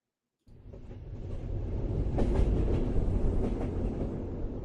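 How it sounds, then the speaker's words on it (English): A New York subway 7 express train bound for Willets Point rumbles in after a moment of silence, its wheels clattering and rising to a steady loud roar with rhythmic rail clacks. "This is a Willets Point Shea Stadium bound 7 express train."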